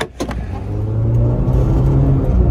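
A Honda S2000 Type S fitted with an R Compound aftermarket exhaust revs loudly and steadily close by, its engine note rising and holding for a couple of seconds with no talking.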